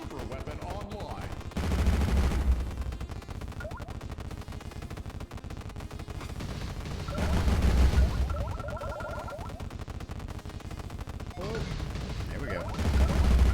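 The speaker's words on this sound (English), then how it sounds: "Yeah, this cross weapon is fun." Cross super weapon firing in the pre-alpha Shoot'em YUM video game, heavy rumbling bursts around two, seven to eight and twelve seconds over a steady busy game soundtrack, with someone talking briefly.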